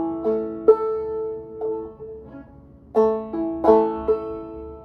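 Clawhammer banjo picks out "Tom Dooley" in the drop-thumb style, with bright plucked notes ringing over a brisk uneven rhythm and clear attacks. It plays solo with no voices.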